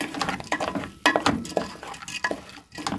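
Washed lentils sautéed and stirred in a pot with a spoon, giving a soft sizzle broken by irregular scraping and clinking strokes, close and fairly quiet.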